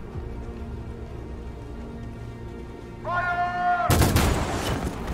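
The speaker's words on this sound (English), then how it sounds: "I'm gonna start shooting, probably." Gunfire erupts in the video game Detroit: Become Human as a loud, dense burst of shots that keeps going, preceded by a rising electronic tone over a low rumbling game ambience.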